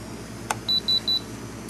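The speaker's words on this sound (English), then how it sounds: "and you hear that little beep there." A DX6i radio controller for a Blade mCX helicopter powers on with a soft click, then three short, clean electronic beeps in quick, even succession, close and clear over quiet room tone.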